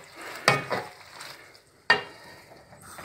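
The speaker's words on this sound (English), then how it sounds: "what we're going to do now is we're going to give this a good stir" Tagliatelle with mussels and prawns is stirred in a pan, giving two sharp close scraping clatters about a second and a half apart over a low sizzle.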